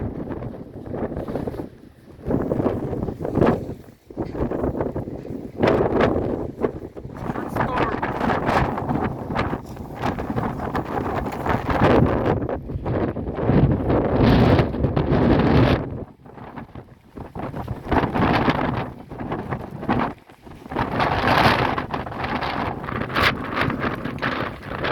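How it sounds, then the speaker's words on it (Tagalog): Strong sandstorm wind in Saudi Arabia buffets the microphone in loud, continuous gusts with brief lulls, while people talk now and then underneath. "Grabe lakas ng SandStorm."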